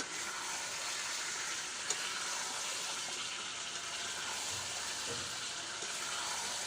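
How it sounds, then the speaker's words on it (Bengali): Spicy red chicken sizzles steadily over a wood fire, a soft, even frying hiss that continues without a break, with a faint stir or knock now and then. "লাল লাল ঝাল ঝাল চিকেন রান্না করছে কাঠের জালে"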